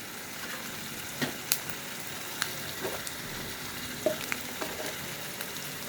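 Masala with turmeric, salt and bay leaf fries in a pan for a country chicken curry, a steady close sizzle broken by occasional scraping stirs, with no voices.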